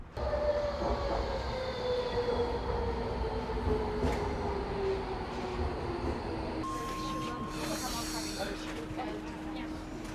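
A train rumbles and hums at Upton Park station in London, wheels squealing and a high tone sounding, with people talking over the noise.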